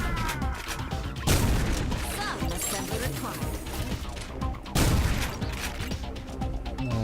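Shotgun blasts in the retro shooter Ion Maiden, two heavy booming shots a few seconds apart over constant game noise and clatter.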